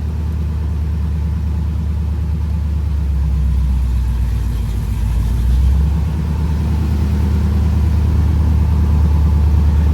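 A 1978 Chevy Camaro engine runs steadily with a deep, loud, close rumble while the car is backed up, swelling slightly midway, with no talk over it.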